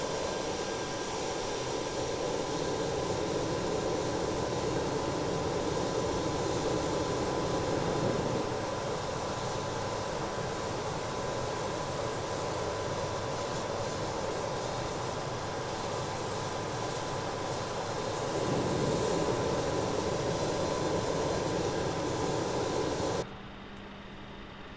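Airliner jet engines hum and roar steadily in Microsoft Flight Simulator, building in two stages as throttle rises for takeoff, a broad constant drone that drops abruptly near the end.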